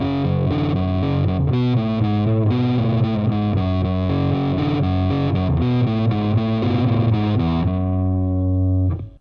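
Distorted electric guitar playing a riff without proper muting, so the chugging notes ring together into a loud, smeared, messy wash that keeps sounding until a final sustained chord fades out.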